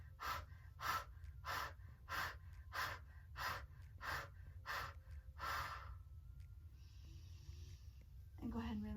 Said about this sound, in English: 10 quick breaths.